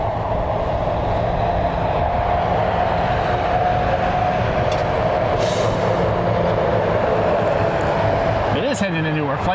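A Cessna Citation jet takes off at Cleveland Hopkins airport, a loud, steady engine roar filling the whole stretch while someone talks over it.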